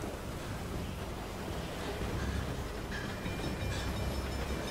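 A train rumbles in the Beyond Two Souls video game, a low, steady roar of wheels and wind rushing past, fairly faint and continuous with a few clanks near the end.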